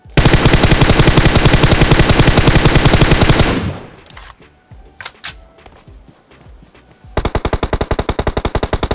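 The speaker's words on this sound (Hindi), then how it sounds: "तो यहाँ पे जैसे मैंने फायर किया उसने भी भाई अंधा फायर किया" Gunfire exchange in PUBG Mobile: a loud, close sustained burst of rapid automatic fire, a lull with scattered single shots and clicks, then another steady full-auto burst.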